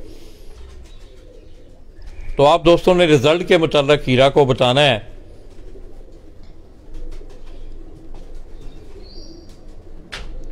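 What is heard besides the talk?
pigeons cooing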